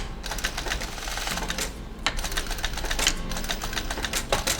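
A sewing machine stitches the bottom of a leather coin pocket for a handmade round-zip long wallet, a steady, close, continuous rapid clatter with brief pauses, no talking.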